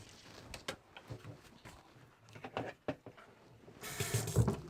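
Water runs from a sink tap during furniture priming prep, starting as a steady rushing stream near the end after some brief knocks and handling clatter, close and fairly loud.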